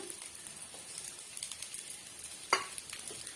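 Crushed garlic frying in hot oil for garlic podi gives a steady, soft, close sizzle. One sharp stir or scrape stands out near the end, with no voices.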